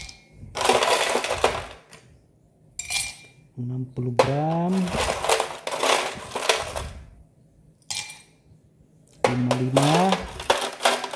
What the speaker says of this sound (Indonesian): Kita letakkan dulu es batunya ya.